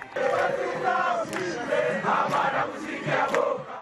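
A crowd of residents gathers outdoors with a traditional chief, cheering and ululating in ovation, a steady, loud wash of many voices with sharp high cries rising through it.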